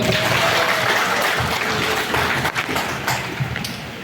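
An audience at a school principal handover ceremony in Medan claps together, a busy wash of applause that thins slightly toward the end.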